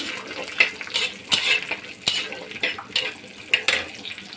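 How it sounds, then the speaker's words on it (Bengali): Cashews and raisins frying lightly in ghee in a pan, heard as a steady soft sizzle with repeated scraping stir strokes and clinks of a spoon against the pan, fairly close. "দেখুন আমার কাজু কিশমিশ আমি ভেজে নিয়েছি হালকা ঘিয়ের উপরে"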